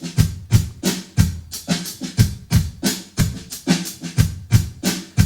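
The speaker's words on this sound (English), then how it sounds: "So the drum beat we're going to use as an example is going to sound like this." A simple drum beat in a six count, with kick and snare hits repeating in an even, steady groove, close and punchy, played alone with no voices.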